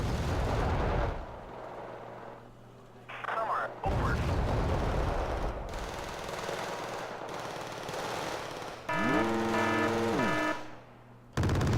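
Flak Panzer Gepard A1 anti-aircraft tank in a strategy video game fires bursts of autocannon fire among other booming battle sounds, with rapid repeated shots and a brief descending whistle, mixed with game effects.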